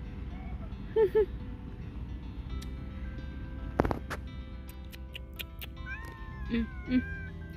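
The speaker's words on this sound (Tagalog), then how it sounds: "Tingnan nyo yung pusa." A cat meows a few times, short and near, with a pause between calls over faint background noise and soft clatter.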